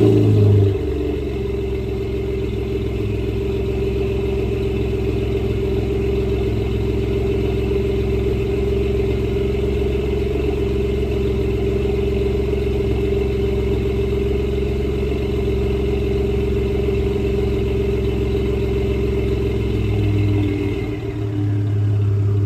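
A Ford 2.7 EcoBoost engine built for 450+ wheel horsepower idles and rumbles with a steady low exhaust drone, briefly rising near the end as the revs pick up.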